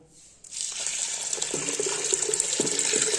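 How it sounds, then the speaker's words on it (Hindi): Water poured from a jug into masoor dal lentils seasoned with turmeric, red chili and salt in a pressure cooker, a steady splashing gush that starts abruptly and runs on, close and alone. "और इसमें पानी डाल के इसे प्रेशर लगा देंगे।"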